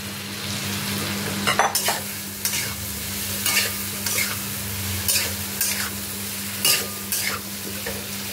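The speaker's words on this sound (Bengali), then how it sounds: "মশলাটা কষানো হয়ে গেছে, এবার আমি সব আলুগুলো এর মধ্যে ঢেলে দেব।" Potatoes stirred into sizzling fried spices in a pan, a continuous frying crackle with repeated scraping spoon strokes and a few knocks against the pot, close and clear.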